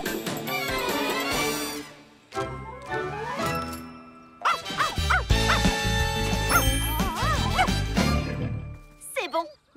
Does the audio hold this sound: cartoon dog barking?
yes